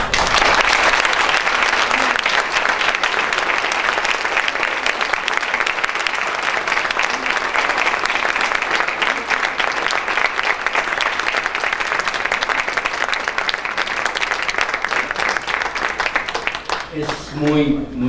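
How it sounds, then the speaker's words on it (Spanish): A seated audience at a survey presentation for opinion leaders and academics gives a long, loud, sustained round of applause with dense clapping throughout; it thins near the end as a voice begins to speak. "Es muy contundente este aplauso, Ricardo."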